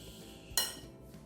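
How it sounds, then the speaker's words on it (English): A single sharp clink of a utensil against a bowl while dressing is stirred into a homemade summer salad, close and fairly quiet, with faint kitchen clatter around it. "I'm just stirring the dressing in, making sure everything's all nice and coated"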